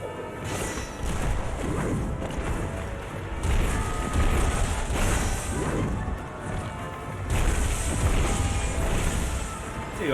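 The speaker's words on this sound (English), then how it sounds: "How about an explosion?" A blast goes off in the Berserk and the Band of the Hawk video game, a loud crashing boom layered over dense, continuous battle noise with repeated heavy impacts.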